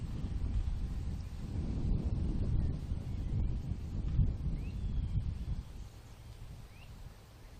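Gusty wind sweeping across an outdoor disc golf course, rising and falling as low buffeting rumbles with a few faint bird chirps, easing off toward the end.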